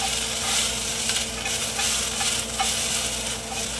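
Peppers, onions and celery frying with chicken in a pan give a steady, loud sizzle, broken by a few soft stirring scrapes, with no talk.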